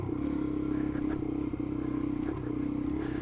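Suzuki DRZ 400 motorcycle on road tyres riding down a forest byway lane, a steady loud engine drone close by with slight clatter and small rises in revs throughout.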